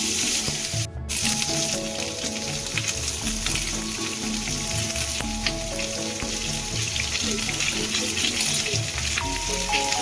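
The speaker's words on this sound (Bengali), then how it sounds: "প্যানের মধ্যে এখন আমি একটুখানি তেল দিয়ে দিলাম, এটার মধ্যে আমি বেগুনগুলো হালকা করে ভেজে নিব।" Eggplant pieces fry in a little oil in a pan, giving a steady, close sizzle with constant crackle that runs loud and unbroken throughout, with no talking.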